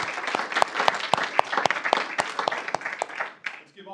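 A city council meeting audience gives a round of applause for new and long-serving city employees, with brisk, scattered clapping running for several seconds under a voice before it thins out.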